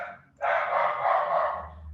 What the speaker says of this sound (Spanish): Ay, la perrita.